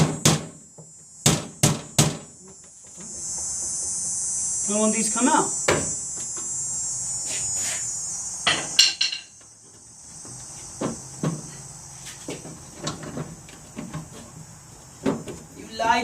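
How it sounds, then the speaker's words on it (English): Hammer blows knocking parts loose on an arcade cabinet being restored, Street Fighter 3: Third Strike, a few sharp close knocks at the start and mid-clip, with someone talking in between. "I'm gonna get a hammer and just bang these out slowly."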